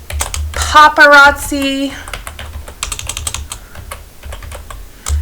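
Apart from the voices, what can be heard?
typing on a computer keyboard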